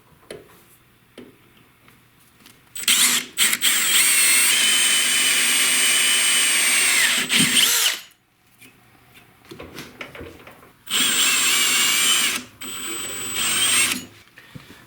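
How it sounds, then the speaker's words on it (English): A power drill with a 13/64 bit bores holes into a maple tree, whining loudly in several sustained bursts, each lasting a few seconds, separated by quiet pauses with faint clicks. "what I've got here is a 13/64 drill bit to drill the hole"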